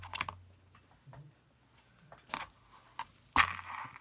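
Scissors snip through twine on a handmade DIY gnome, giving a few quiet, sharp clicks and cuts at irregular intervals, the last one the loudest.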